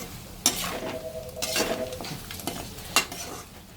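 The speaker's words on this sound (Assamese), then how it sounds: "আৰু ভালদৰে লৰাই দিম।" A utensil scrapes and clatters against a pan as Assamese-style pork dry fry is stirred, a few sharp knocks over a steady sizzling bed, close and fairly quiet with no voices.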